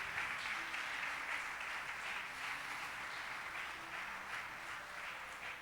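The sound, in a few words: congregation applause in church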